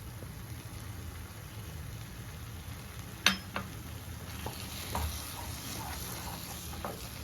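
Pineapple kesari bath being stirred with ghee in a pan, a soft steady sizzle with a few faint scraping clicks from the spoon, no voices.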